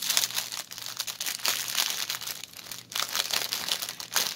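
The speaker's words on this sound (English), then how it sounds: "There will be crinkling." Plastic packaging of a pre-stamped cross stitch kit crinkles and crackles steadily up close, a continuous run of rustling with brief pauses.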